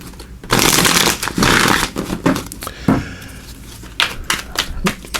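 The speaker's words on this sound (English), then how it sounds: "we're also going to pull for each month a Power of Surrender card. So just shuffle these real quick." Tarot cards being shuffled by hand, crisp riffling and flapping bursts in quick clusters, close and loud, with short pauses between rounds.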